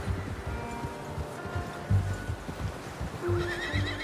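A horse whinnies loudly with a rising, quavering call near the end, over steady hoof clops and a low background rumble, in the video game Red Dead Redemption 2.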